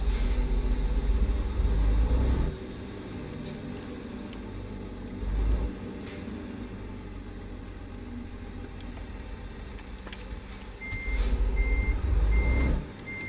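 A big rig in American Truck Simulator rumbles as it starts off, its low engine note swelling in a few surges of throttle, with a steady reversing-style beep pulsing near the end.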